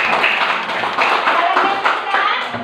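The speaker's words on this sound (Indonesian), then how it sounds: "Sudah? Tepuk tangan." Classroom applause during a lesson, a steady burst of many hands clapping close by for about two and a half seconds with a dense, even rhythm.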